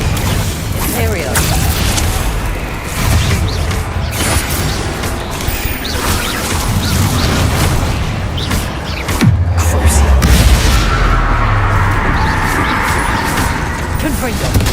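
A Confringo blasting spell bursts in Hogwarts Legacy amid dense game action, with booms, crashes and whooshes piling up, strongest around the middle, as other spell effects continue.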